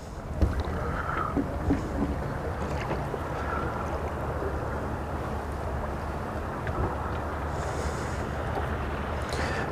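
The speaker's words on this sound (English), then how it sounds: "That wind is just kind of coming and going." Wind gusting over deeper open water during a fishing outing from a boat, a steady broadband rush with mild swells, heard alone and fairly close to the microphone throughout.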